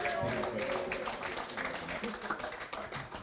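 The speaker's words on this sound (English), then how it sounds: "No, another round of applause for sure." An audience gathered in a primary school courtyard claps steadily, a moderate continuous patter of many hands with some voices mixed in.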